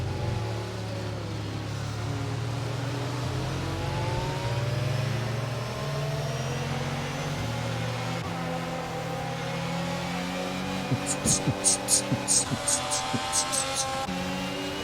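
A safety car drives in an F1 racing video game at Spielberg, a steady mid-pitched engine drone with shifting revs throughout and a short burst of clicks near the end.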